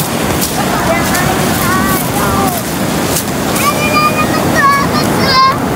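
Strong sea waves at the seaside, a continuous loud wash of surf and wind noise, with children's voices and shouts calling out over the water.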